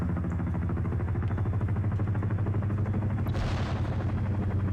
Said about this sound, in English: Hearing some grenades getting fired off on either side